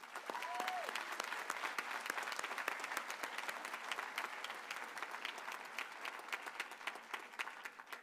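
Sustained audience applause at the Johnson College commencement ceremony, a dense crowd of many hands clapping steadily with sharper individual claps standing out, heard fairly distantly in a large hall.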